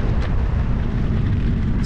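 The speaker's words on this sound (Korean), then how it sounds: "와, 바람 세다." Strong wind buffeting past a cyclist resting on a hot, rocky stretch of road near Zaragoza, Spain, a loud, steady low roar that fills the whole moment with no break.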